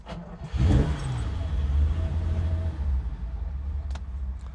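A 1972 Ferrari 365 GTC/4 V12 cranks briefly and catches, then settles into a deep, steady low rumble of a cold idle, close and fairly loud, with a faint clink near the end.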